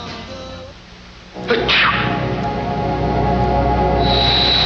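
A single sharp sneeze bursts out near the start, followed by sniffly breathing and a steady background hum.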